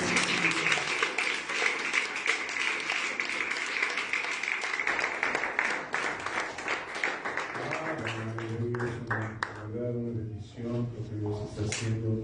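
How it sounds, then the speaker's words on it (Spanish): A church congregation at a Wednesday evening service breaks into loud applause, dense clapping filling the room before thinning out as music or speech takes over near the end. "Den un aplauso fuerte a Cristo"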